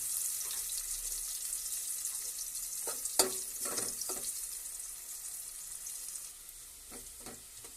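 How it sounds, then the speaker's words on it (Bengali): Onions fry steadily in a pan for a masoor-dal pulao, a continuous close sizzle with brief scraping stirs in the middle and near the end, no voices. "পেঁয়াজ লাল না হওয়া পর্যন্ত আমি ভাজতে থাকবো"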